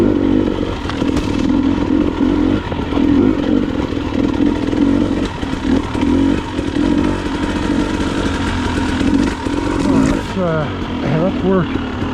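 A 300 enduro dirt bike engine buzzes and revs continuously on a forest trail, lugging low with brief surges, while a rider talks over it.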